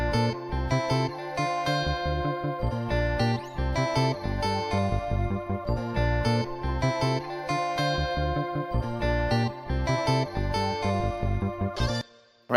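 A distorted, heavily processed bass line pulses in a busy, rhythmic pattern through the chorus of a hip-hop beat, loud and dense from start to finish.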